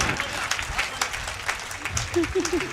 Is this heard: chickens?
no